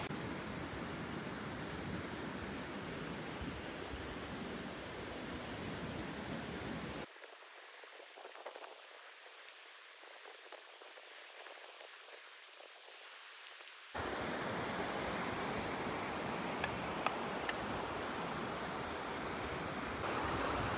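Ocean surf at Cahoon Hollow Beach in Wellfleet, a steady broadband wash of breaking waves, briefly thinned midway before the full rushing roar returns, with no voices.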